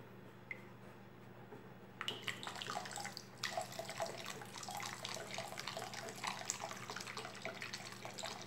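Multipurpose cleaner is poured into a container for homemade bar soap, a quiet liquid splashing and trickling that starts suddenly and continues softly for several seconds.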